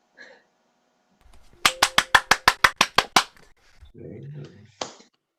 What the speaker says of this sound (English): You're allowed to clap.